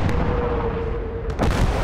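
An artillery gun fires in the World War II game Gates of Hell, a heavy, loud boom that rumbles on, then a second sharp blast hits near the end.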